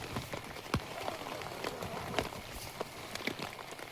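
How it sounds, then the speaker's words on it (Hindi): Rain patters on the fabric of a small tent pitched in a forest during strong wind, a soft, continuous hiss broken by scattered sharper drops and taps close by. "यार क्या बारिश हो रही है बाहर"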